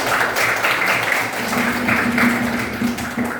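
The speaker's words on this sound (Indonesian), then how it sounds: "Oke, tepuk tangan dulu." A high school class of students claps together in a classroom, brief dense rhythmic clapping from many hands, fairly close and steady without speech.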